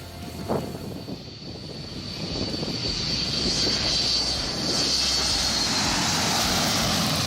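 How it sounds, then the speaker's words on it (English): An Aero Sucre Boeing 727 jet takes off low, its engine roar building from a strong whine into a loud, sustained rumbling thunder that grows steadily louder and fills the scene, with no voices. "This Aero Sucre Boeing 727 pilot performs a low takeoff with exceptionally early gear retraction."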